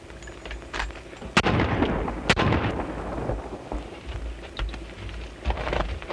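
Two sharp, loud gunshots crack about a second apart in an old western film, with no voices between them and a hissy background.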